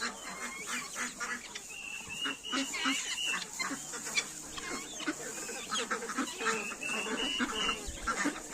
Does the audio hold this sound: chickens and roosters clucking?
yes